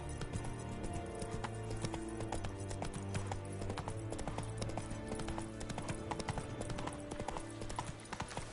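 Roach the horse trots steadily in The Witcher, his hooves clip-clopping in a quick, even rhythm close up beneath a sustained musical score, with no voices.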